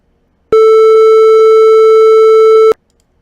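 Sine wave test tone with harmonic distortion at 0 dBFS peak, a loud steady buzzy note rich in stacked overtones, lasting about two seconds with abrupt onset and cutoff, faint clicks within.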